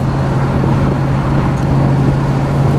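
A 1967 Pontiac Firebird convertible with a 326 HO engine and four-speed, driving along with a steady loud low engine drone and road rumble, no breaks.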